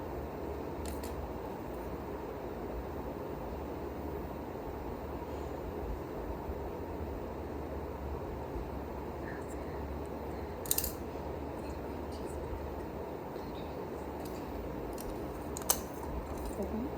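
Scissors snip at material for a customised toy car scale model, producing quiet, sparse cutting clicks over a faint, steady background hush.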